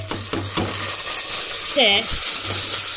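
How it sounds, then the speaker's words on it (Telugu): Tomatoes dropped into hot oil with golden fried onions and green chillies sizzle steadily with a broad hiss, while a spoon stirs and scrapes the pan and a short clink rings out midway. "ఇప్పుడు ఈ టైంలో టమాటాలు వేద్దామండి."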